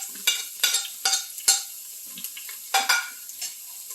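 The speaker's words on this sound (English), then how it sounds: "add the onion and Scotch bonnet pepper to the oil" Onion and Scotch bonnet pepper hit hot vegetable oil in an Instant Pot, giving loud close bursts of sizzling and spattering that come in uneven waves over a few seconds, with no voices.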